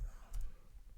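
A few quick computer mouse clicks while working in Blender 2.76 software, faint and close, with a soft background hiss.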